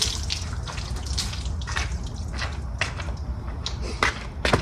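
Rainwater splashes and trickles while a motorcycle is washed, with irregular drips and pours close by, louder spatters breaking out near the end.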